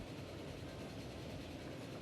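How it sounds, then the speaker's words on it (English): A freight train in the Transport Fever video game rolls past as a faint, steady low rumble with no breaks. "We should be passing the freight train."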